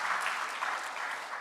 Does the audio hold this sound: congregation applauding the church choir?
yes